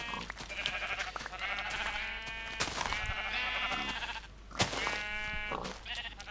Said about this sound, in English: So I'm gonna stay here and shear some sheep, get some more wool.